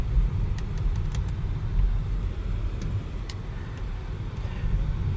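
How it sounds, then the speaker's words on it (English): A 2024 Hyundai IONIQ 6 electric car drives along a road, giving a steady low rumble of tire and road noise with faint clicks over it. "the car definitely will move, and it hugs the turns very well"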